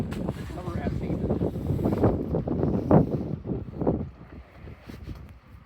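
Strong gusty wind buffets a Purebox portable pop-up four-person camping tent outdoors, rumbling against the microphone in irregular low bursts, with a voice speaking intermittently underneath.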